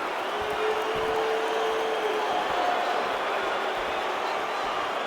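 A virtual arena crowd in the UFC 5 fighting game roars in a dense, steady wash of cheering that stays loud and even throughout, with no distinct voices standing out.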